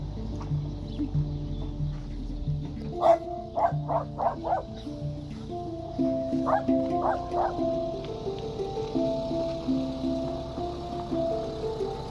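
A female dog barks in two quick bursts, first four or five sharp yelps and then three more, fairly close, over a steady low droning hum with some faint voices around.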